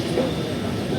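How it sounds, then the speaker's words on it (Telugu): The Bhubaneswar Superfast Express rolls into Vijayawada station with a steady rumble of wheels on track, heard from inside the train with a faint murmur of voices. "విజయవాడ రైల్వే స్టేషన్ లోపలికైతే ఎంటర్ అవుతా ఉంది మన ట్రైన్"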